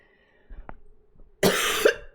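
A faint throat sound gives way to one harsh, close cough with a second quick burst, in an otherwise quiet room.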